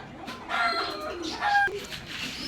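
Pigeons being readied for a tournament coo softly nearby, a few low throaty calls rising and falling over faint background noise.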